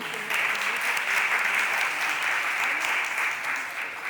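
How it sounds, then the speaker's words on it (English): Steady applause fills a Philadelphia City Council chamber during a stated meeting, a room-wide clapping that holds evenly for about four seconds without breaks, fairly close and loud, with no voices standing out above it. "Let's give her a round of applause for that acknowledgement."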